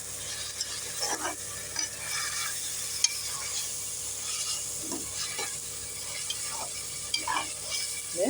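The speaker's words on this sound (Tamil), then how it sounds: "வதங்கட்டும் மசாலா போடணும் கொஞ்சம் மஞ்சள் தூள்" Masala frying and being stirred in a pan for Tamil Nadu–style mutton biryani, a steady oily sizzle broken by repeated scraping spoon strokes, close and clear with no talking.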